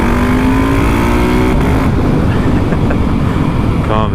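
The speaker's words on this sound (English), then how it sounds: "I am taking out the new Honda Transalp 750 today." A 2024 Honda Transalp 750 adventure motorcycle pulls hard on the road, its engine drone steady beneath heavy rushing wind noise, loud and continuous throughout.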